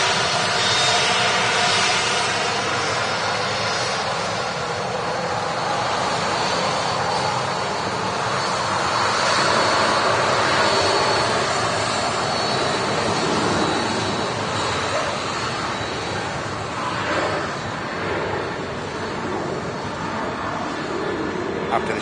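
Icelandair jet airliner coming in to land, a loud sustained roar of jet engines rising and falling over about twenty seconds, with no speech.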